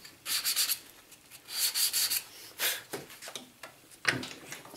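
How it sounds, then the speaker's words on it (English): Scraping and sanding the running edge of a Galaxy 46mm smart watch cradle mount, close, rhythmic strokes of abrasive rubbing in short bursts, with quieter gaps between passes. "And then I'll also give the running edge a bit of a scrape"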